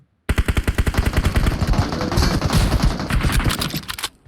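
Automatic gunfire in the mobile battle-royale game PUBG Mobile: a loud, close, rapid stream of shots in quick rhythmic bursts that runs without pause for about four seconds, then stops abruptly, with no talking over it.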